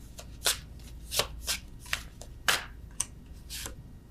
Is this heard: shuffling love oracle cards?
yes